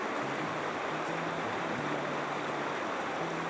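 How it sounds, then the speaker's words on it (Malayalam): The Yarra River flows beside the Redwood Forest at Warburton, Australia, as a steady close rush of water, with faint low tones and light ticks under it and no talk. "വീണ്ടും യാര റിവറിൻ്റെ തീരത്ത് എത്തി"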